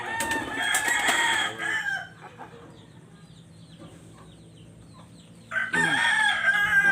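Agitated pigeons in a loft, moved into a new cage, give loud bursts of wing-flapping and cooing calls near the start and again at the end, with a quieter, settled stretch in between.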